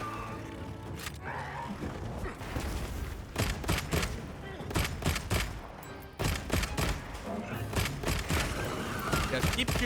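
Heavy bowgun fire in a monster hunting video game, a dense fusillade of loud repeated gunshots and booms in rapid bursts throughout, with a voice talking over the shooting.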